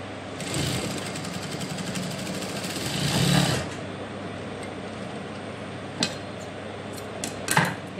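A sewing machine runs steadily while stitching piping onto fabric, a continuous mechanical whir for about three seconds that rises briefly, followed by quieter handling clicks and a couple of short taps.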